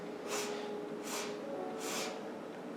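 Three short, breathy nasal sniffs of a yoga breathing exercise come at an even, unhurried pace, each a soft airy hiss close to the listener.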